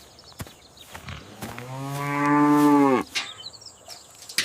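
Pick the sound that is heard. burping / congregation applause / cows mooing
cows mooing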